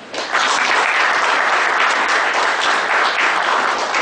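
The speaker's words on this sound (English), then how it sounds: "I give a big round of applause." An audience at a professional institute seminar in Bangalore gives a loud round of applause, a dense sustained burst of clapping that swells in quickly and holds steady throughout.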